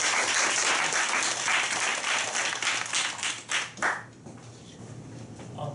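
An audience at a self-introduction meetup applauds to welcome a speaker, with loud, dense clapping that breaks into a few last claps and stops near the end.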